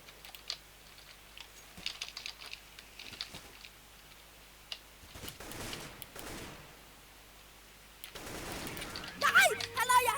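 Gunfire in the video game CS:GO, bursts of rapid shots mixed with keyboard typing and clicking, with players talking now and then.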